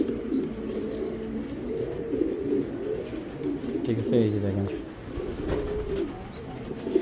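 Low, throaty coos of fancy pigeons, including Belgian, Dutch and German breeds, roll on steadily beneath someone talking close by, with a brief fuller burst of cooing partway through.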